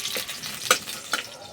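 Curry leaves fry in hot oil with a bright, close sizzle and a couple of sharp spatters, with stirring scrapes and no talk.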